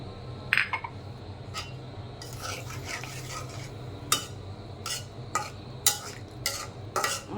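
Pomfret fish is stirred into a spice masala in a pan while it sizzles softly. Sharp clinks and scrapes of a utensil against the pan come in irregular bursts, close by, over a steady low frying hiss.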